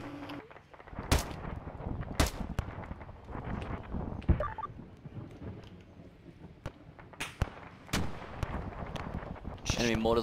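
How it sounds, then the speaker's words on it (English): Enemy mortar rounds landing in the military shooter game Arma 3, a series of heavy booms at irregular intervals, some near and some farther off, over a low rumbling background with faint voices. "Enemy mortars on our position"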